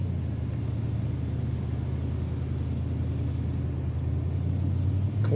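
Steady low exhaust rumble from a 1983 Chevrolet Monte Carlo SS, a deep continuous drone heard from inside the car while cruising, fairly even in loudness with no talking.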